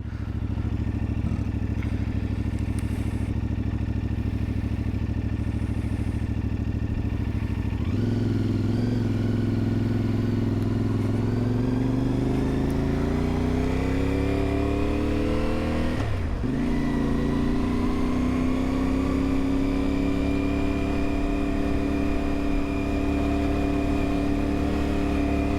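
A CFMOTO 450MT adventure motorcycle hums steadily while being ridden, then its engine revs up sharply into a rising, loud whine that dips briefly and climbs again, heard close throughout with no talk.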